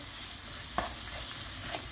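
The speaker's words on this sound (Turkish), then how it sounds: "Hepsini güzelce karıştırdıktan sonra yağda bu baharatların biraz soğanla birlikte kavrulsun." Spices and onion sizzle in hot oil as they are stirred, an even close-up frying hiss with a couple of soft utensil scrapes, no voices.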